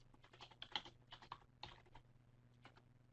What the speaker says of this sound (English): I'll go down here and just type a message.